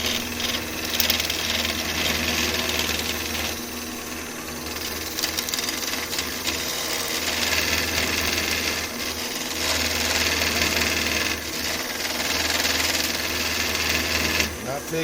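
Wood spinning on a lathe while a skew chisel takes light cuts: a continuous motor whir with a hissing, scraping texture that swells and eases in long passes, close and fairly loud.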